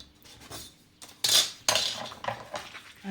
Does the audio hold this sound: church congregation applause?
no